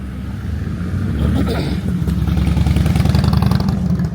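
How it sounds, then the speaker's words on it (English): A motorcycle passes along a street, its engine note loud and steady throughout, with a rhythmic low-end pulse building as it draws nearer. "just let that motorcycle go by"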